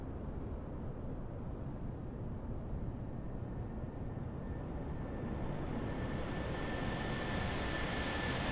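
Engines of a Lockheed L-1011 TriStar trijet in Microsoft Flight Simulator 2024 give a steady, dense roar, with a thin whine rising gradually above the rumble and no talk over it.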